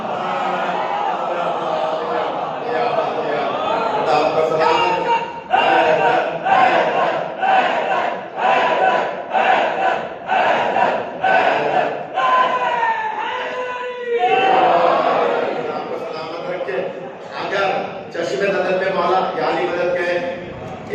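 Crowd at a Shia religious gathering in an imambargah erupts in loud, repeated rhythmic chanting of slogans, dense voices rising and falling in surges across the whole stretch with brief pauses between bursts.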